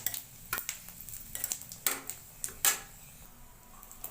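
Panch phoron, cumin, chili and bay leaf hit hot oil with a series of sharp crackling bursts and sizzles, close and fairly quiet, with a few utensil clinks between them.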